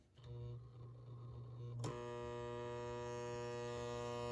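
A Hudson 2056 model train locomotive from an attic find hums electrically, first a low steady buzz, then a sharp click at about two seconds and a brighter, harmonic-rich whine that holds steady and fairly faint to the end.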